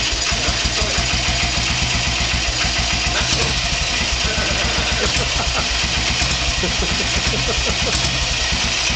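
An old motorcycle with a big flywheel runs after a kick start, its engine throbbing with a slow, steady loping beat, loud and close, continuous throughout.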